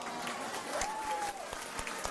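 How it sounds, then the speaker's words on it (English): Round of applause sound effect with dense crowd clapping, steady and moderately loud throughout a short burst, with a faint tonal whistle in the middle. "There's the round of applause on Moderna"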